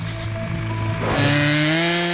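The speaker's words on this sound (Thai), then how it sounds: "เมื่อเดินเครื่องเลื่อยไฮดรอลิก ปั๊มไฮดรอลิกที่อยู่แยกกันจะดันของเหลวอัดความดันผ่านช่องว่างที่ 8 แกลลอนต่อนนาที" A hydraulic rotary saw, driven by a separate pump pushing 8 gallons per minute and spinning at 8,500 rpm, runs close and loud with a steady whine. Partway through, the pitch shifts and rises as the blade bites into a cut.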